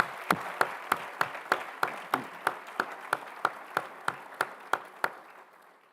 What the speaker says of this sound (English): let's give everybody a round of applause one more time